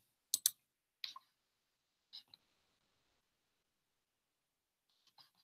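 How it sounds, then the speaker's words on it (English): A computer mouse clicks several times, sharp, close and isolated, with a double click near the start, then single clicks separated by silence. "And then you click on create user."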